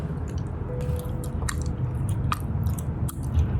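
Someone chews a mouthful of blueberry Greek yogurt with fruit pieces, giving close, wet, squishy chewing with a few crisp bites spaced through, and no talk.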